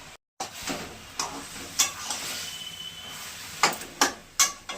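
Black cumin, turmeric and jaggery sizzling in hot tempering oil, a steady close hiss broken by several sharp stirring clanks and scrapes, with no talking.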